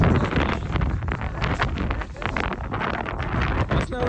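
Cold mountain wind in Manali buffets the microphone as a steady, loud rushing roar with gusty surges throughout, with no voices.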